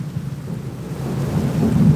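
Thunder rolls low and close during rain, a deep rumble that swells louder toward the end over a steady hiss of falling rain.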